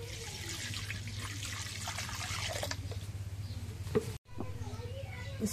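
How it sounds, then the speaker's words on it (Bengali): Water is poured into a pan holding eggs in a rural village kitchen, giving a steady close trickle and splash that briefly cuts out, then resumes over a low background hum. "পানি দিই এখন।"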